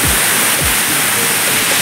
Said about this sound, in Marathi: समोर धबधबा वाहतोय जबरदस्त उंच वाहणारा सुंदर असा धबधबा.